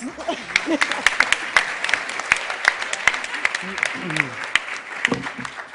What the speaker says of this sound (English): let's welcome Joe with a round of applause